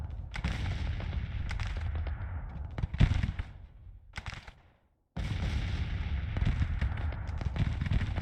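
Artillery guns fire repeatedly during a Civil War battle in the strategy game Grand Tactician, near Manassas, as a steady dense barrage of booms and cracks that drops off briefly before resuming at full loudness.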